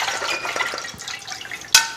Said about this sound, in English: I'm going to pour this in a colander.